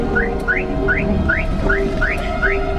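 An alarm sounds in an empty house, a steady series of rising electronic chirps repeating about twice a second, loud and continuous over a low hum.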